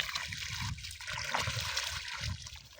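Water trickles onto the soil close to the ground to irrigate a young garden, a soft, steady dribbling and splashing that is faint but continuous throughout.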